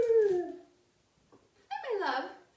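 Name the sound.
small pet dog whimpering and howling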